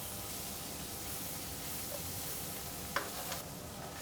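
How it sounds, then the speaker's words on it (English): Butter sizzles and foams in a pan with Brussels sprouts, a constant close frying hiss with a few faint clinks, no talk. "just add in a couple of chunks of butter to your pans"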